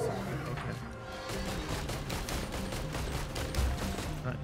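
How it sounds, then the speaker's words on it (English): Fire missile launches in Risk of Rain 2, a rapid string of blasts and impacts in even succession under game music, fairly quiet overall. "It's a fire missile."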